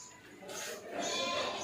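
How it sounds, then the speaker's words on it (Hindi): A castrated two-tooth goat bleats at a Pakistani livestock market, a close, drawn-out cry that swells in the second half amid noisy market background. "ये बकरा चेक करें आप, 2 दांत का बकरा है, खसी बकरा है।"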